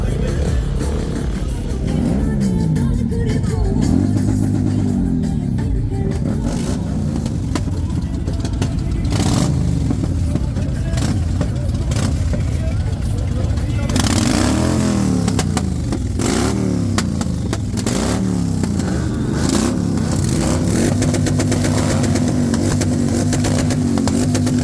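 Motorcycle engines rev and idle at an Enduro Albania event in Mother Teresa Square, Tirana, with loud throttle swells rising and falling over a steady crowd and live-music din.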